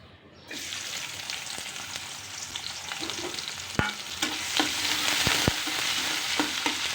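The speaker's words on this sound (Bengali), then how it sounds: "এখন সুরমা মাছটা আমি ভুনা করে নিব।" Surma fish frying in a pan with onions and spices, a steady loud sizzle throughout with a few sharp stirring clicks and scrapes, no voices.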